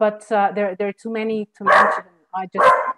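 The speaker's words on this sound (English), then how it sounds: "excuse my dog" A pet dog barks twice loudly and close, short sharp yelps breaking into a man's speech during an online talk on Brazilian legislation.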